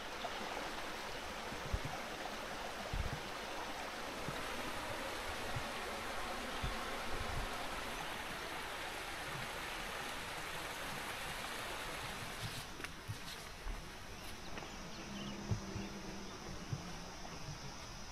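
A small stream flows steadily beside a rented cabin area at a campground, a constant close, even rushing of water throughout with no talking.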